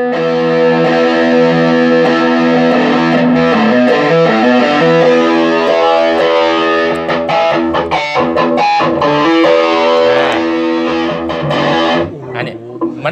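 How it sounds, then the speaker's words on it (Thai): A distorted electric guitar through a TR-1 amp plays loud, sustained, gritty chords and notes, continuing steadily before a few choppy, muted strums near the end. "ถ้าเราไปใช้เสียงแตกนะครับ"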